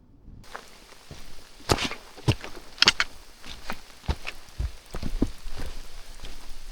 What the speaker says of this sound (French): Sous la pluie.